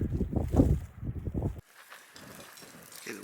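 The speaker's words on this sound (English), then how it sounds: "the wind is picking up" Wind gusting during a snow storm in New Orleans, heavy low buffeting against the microphone that drops to a softer airy rush, close and steady.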